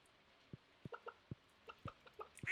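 Chickens clucking on a Stardew Valley farm: soft, short clucks in an irregular run, faint and close, with a brighter chirp at the end.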